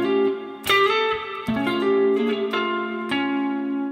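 A clean electric guitar plays an RnB lick, several plucked notes and double-stops picked one after another up close, each attack ringing and sustaining into the next.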